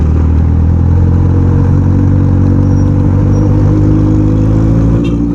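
A Yamaha R1 sports motorcycle, a 1000cc bike, droning steadily while being ridden, with its engine and wind roar loud, close and continuous and no voices.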